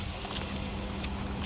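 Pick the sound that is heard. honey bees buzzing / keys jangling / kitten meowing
keys jangling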